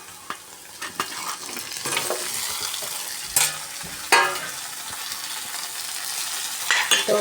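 Precooked beef, boiled with chilli powder, turmeric and salt, is stirred and fried in a pan: steady sizzling under irregular scraping and clattering strokes of a spoon, close up, with a couple of sharper knocks and no speech.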